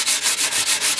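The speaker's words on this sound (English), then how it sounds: "handheld sandpaper" Sandpaper rubbed by hand over a Laser dinghy daggerboard or rudder foil, a close, steady back-and-forth rasp in quick regular strokes, about five passes heard alone.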